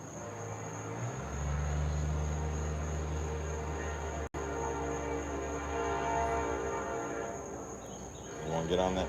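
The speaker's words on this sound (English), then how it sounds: "There's my train coming." A train rumbles steadily nearby with a low, sustained horn-like drone, growing in loudness; a voice is briefly heard near the end.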